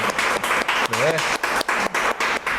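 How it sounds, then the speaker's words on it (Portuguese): Studio audience applause on a talk show, a broad wash of clapping that cuts in and out in rapid, regular bursts, with a voice briefly heard through it. "Mais uma vez, palmas aqui"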